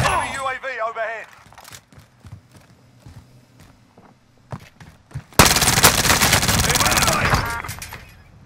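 Gunfire in Call of Duty Modern Warfare crackles in scattered bursts, then swells into a loud, sustained barrage in the second half, with in-game voice announcements and footstep-like clatter beneath the shots.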